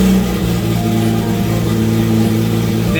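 A Nissan Skyline R34 GT-R engine with no exhaust idles roughly and revs in steady bursts, loud, raw and throaty, filling the whole stretch without any voices.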